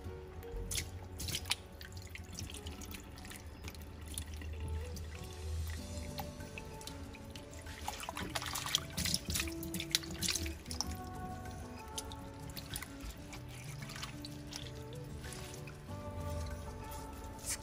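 Boiled spinach cooled under cold running water in a colander: irregular drips, splashes and wet squishing of leaves, with a louder burst of water midway, close and fairly quiet, no talking.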